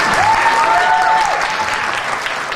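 An audience at a regional pageant gives steady, loud applause that fills the whole clip, with a faint crowd murmur and a brief whistle-like tone rising above the clapping near the start.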